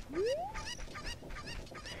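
A cucco from Zelda: Ocarina of Time squawks in a few short bursts after a rising whistle-like sound effect, moderately loud, with no one talking.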